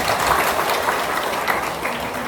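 Guests applaud at a wedding reception held as a church service, a dense, continuous wash of many hands clapping at even loudness throughout, with no speech on top.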